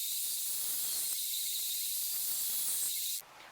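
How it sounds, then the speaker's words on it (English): A bandsaw trims a Kydex knife sheath with a steady bright hissing whine, loud and unbroken for about three seconds before it cuts off into a quieter hum. "now I'm going to trim this up a little bit here at the bandsaw"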